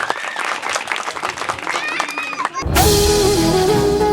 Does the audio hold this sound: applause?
yes